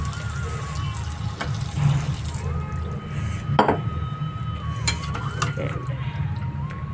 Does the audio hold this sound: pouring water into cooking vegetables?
yes